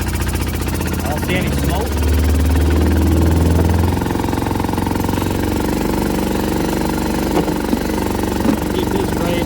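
A used ATV engine runs steadily at close range with a throbbing, rumbling idle that revs up briefly near the start, while someone talks over it.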